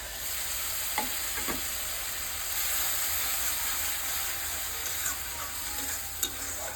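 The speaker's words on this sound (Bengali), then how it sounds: "টমেটো পেস্ট দিয়ে একটু কষিয়ে নিচ্ছি।" Tomato paste sautéing with spices in oil in a pan for a spicy bhetki fish masala curry, a steady close sizzle and fry with faint stirring clicks, no voices.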